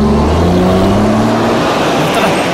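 A car engine runs loud and close throughout, with a low steady drone and a brief rise in pitch like the vehicle pulling away, heard alone in a Malayalam film scene.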